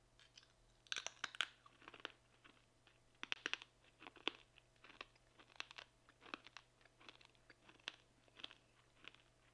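Dried banana chips from a German military ration (Einmannpackung Typ 9) crunched between the teeth, giving a steady series of close, crisp bites and chews over about ten seconds with no talking.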